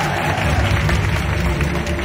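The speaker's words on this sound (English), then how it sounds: "let's give him a round of applause." A crowd at a Hong Kong Disneyland stage show applauds a volunteer walking up, a loud, steady wash of clapping with some crowd noise throughout.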